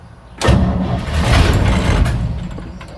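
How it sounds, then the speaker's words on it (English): A 1965 Chevrolet C10 pickup that sat in a field cranks and catches, a loud, close burst of engine noise that then holds as a rough, steady running roar. "let's hopefully see if it'll start in the first crank"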